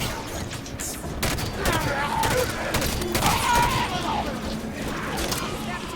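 Turret gunfire in Halo 5: Guardians during a fight against Covenant forces, heard as a dense, sustained barrage of rapid shots that stays loud and continuous throughout, mixed with other battle noise.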